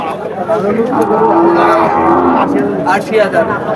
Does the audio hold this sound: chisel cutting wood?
no